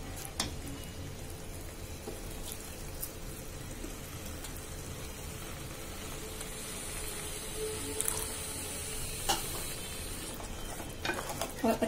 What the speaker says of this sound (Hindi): अब हम इसमें क्रैब के पैरों का जूस ऐड करेंगे।